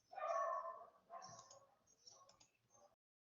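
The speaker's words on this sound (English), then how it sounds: "My dogs are barking for the dogs in the street" Dogs bark at other dogs in the street, several barks in quick succession, muffled as if through a window, fairly faint and trailing off into silence.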